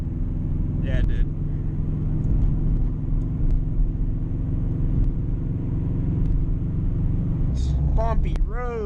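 Steady low engine rumble and road noise from a 2004 Subaru STI with a Tomei catback exhaust driving at night over bumpy roads, continuous throughout, with a person talking briefly near the start and end.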